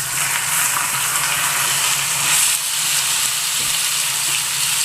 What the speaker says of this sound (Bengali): দেখুন এবার থোড়গুলো আমি দিয়ে দিলাম।